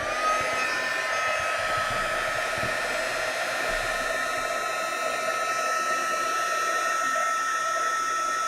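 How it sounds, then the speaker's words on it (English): A heat embossing tool blows hot air over embossing powder on a card, a steady loud whooshing blower hum held without a break, close by and alone. "You want to make sure that you brush away all of the excess powder before you put your heat tool on this."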